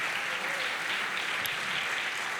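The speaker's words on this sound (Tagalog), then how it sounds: "Sige, palakpak sa Panginoon." A church congregation at a Sunday service breaks into loud, sustained applause, a dense continuous wash of many hands clapping together.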